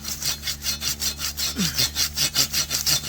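Rhythmic hand saw strokes cutting through a woody bamboo branch, steady back-and-forth rasping, close and fairly loud, about a dozen strokes.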